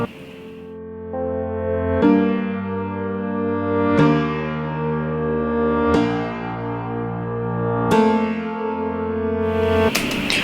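Layered ancient wooden piano and reverse piano chords strike roughly every two seconds, each ringing out and decaying with an echoing, haunted tone, alongside faint swelling reversed notes.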